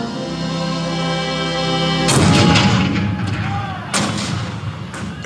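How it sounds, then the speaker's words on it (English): Heavy booming cannon blasts in a dramatized Fort Sumter bombardment, one big report followed by further rumbling shots, loud and echoing over a steady low musical drone. "The cannons spoke for war."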